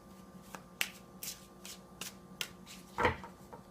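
Cards are laid out one by one for a Pisces tarot reading, as a series of soft, close snaps and slaps at irregular intervals, with a slightly louder shuffle-like flurry near the end. The setting is quiet otherwise.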